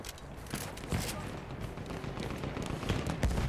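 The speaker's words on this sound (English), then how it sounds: "What is this shooting?" Battlefield 1 multiplayer gunfire on PS4 Pro: a dense, continuous rattle of shots with sharp louder cracks scattered through, loud and busy across the whole stretch against a rumbling battlefield backdrop.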